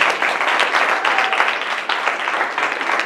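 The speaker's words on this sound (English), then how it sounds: "Let's get a round of applause for our comedians tonight." Audience applause for the comedians at a college stand-up comedy club show, a steady dense wash of many hands clapping that holds evenly for the whole stretch with no voices on top.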